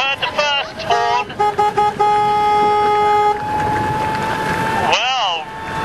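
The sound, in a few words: horn sounding at sailing race finish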